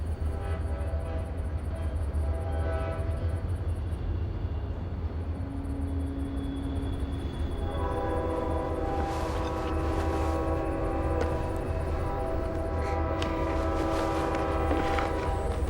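A train rolls past on railway tracks, a loud continuous rumble and rattle of wheels with a sustained horn sounding over it, close by and building in the second half.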